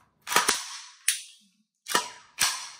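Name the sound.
pistol trigger pulled and resetting, Recover Tactical P-IX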